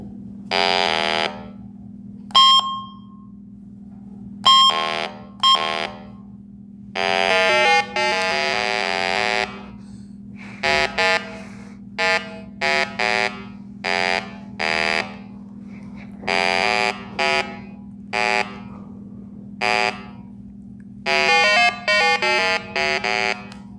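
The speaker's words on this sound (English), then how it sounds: "it will suck light and you will have a alarm like this" A refrigerant leak detector sounds its alarm in bursts of harsh, buzzing electronic beeps, some long and some short, over a constant low hum from the unit.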